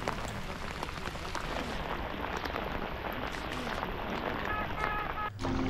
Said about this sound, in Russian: И снова дождь.